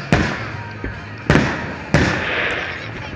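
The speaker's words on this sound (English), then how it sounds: "Highport Marina fireworks show tonight" Fireworks exploding at the Highport Marina Fourth of July show: three sharp booms, each followed by crackling and a fading tail, with a fainter thump between the first two.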